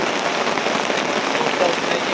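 Heavy rain pours steadily during a storm, a dense, loud, even hiss of drops on surfaces with no break.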